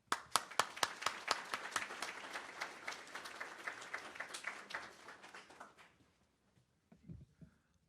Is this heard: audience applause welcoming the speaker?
yes